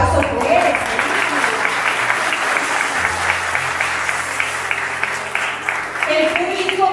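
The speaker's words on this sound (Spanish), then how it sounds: "Déjenme un aplauso, pues." Applause from a congregation inside the Sagrado Corazón de Jesús church in Loma Larga, a steady, dense wash of clapping lasting throughout, fairly loud and close, fading slightly near the end.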